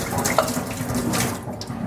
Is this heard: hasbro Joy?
no